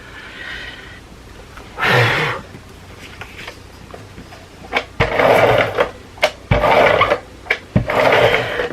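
A good paper trimmer cuts scrapbook paper, giving a short scraping swipe followed by a run of sliding, rasping strokes and sharp clicks, close and fairly loud, with no talking.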